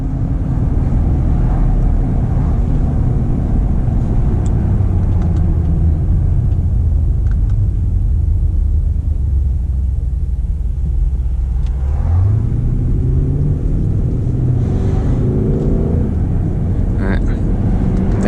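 Engine of a custom Jeep Grand Cherokee Limited revving loud and close, pitch climbing and dropping through gear changes, with people talking and exclaiming over the sustained rumble.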